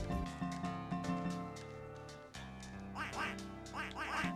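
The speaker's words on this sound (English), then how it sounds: "Quack, quack, quack." Repeated duck quacks from a video game, several bright quacking calls in quick succession over game music, with a short pause midway before a second burst of quacks.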